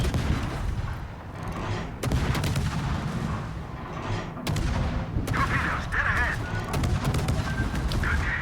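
Naval guns fire in World of Warships. Several loud, sharp booming shots sound at irregular intervals over a constant engine and sea rumble.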